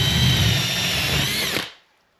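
A power drill spins through a hole for a 2.5 inch pipe in a tiny house remodel, a loud, steady whine lasting about a second and a half before winding down to silence.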